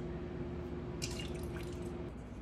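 Gluten-free soy sauce poured in a quick splash, a short bright liquid trickle rising briefly over a steady low kitchen hum, close and fairly soft, with no talking.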